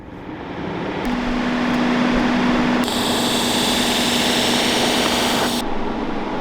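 A new TIG welder runs on a DIY bench-mounted welding cart, giving a steady close hum with a thin high buzz that sets in partway through and then cuts off near the end.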